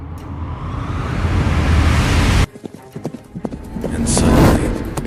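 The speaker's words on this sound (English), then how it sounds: "The sound of horseshoes." Galloping horses' hooves clip-clop in a fast, dense rush, loud and close at first, then breaking into sharper separate hoof strikes that swell again, with a voice speaking over part of it.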